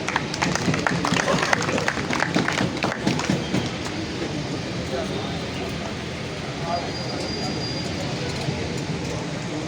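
Applause and crowd noise at a party celebrating Ustad Asghar, a senior player of the Ustad Mir Ghulam Rasool team, dense clapping loud at first then settling into steady background din.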